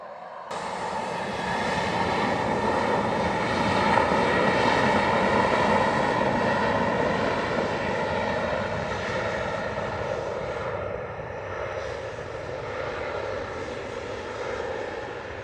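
An American Airlines jet takes off from runway 07 at Montego Bay, Jamaica, its engines roaring in a loud, steady sustained thrust that starts abruptly and slowly fades slightly as the plane climbs away.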